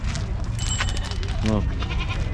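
A sheep gives a single short bleat at the Uzynagash livestock market, amid steady crowd noise and nearby talking.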